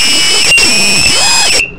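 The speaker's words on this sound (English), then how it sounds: "Let me get my whistle out." A whistle blown once in a long, steady, piercing blast lasting over a second and a half, loud and close, ending abruptly.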